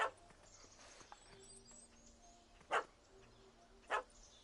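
A dog in The Witcher 3 barks faintly at a distance: a short yip at the start, then two separate sharp barks spaced about a second apart over a quiet ambient bed.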